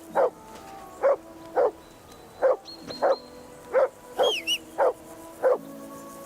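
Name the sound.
dog barking in video game Kingdom Come: Deliverance II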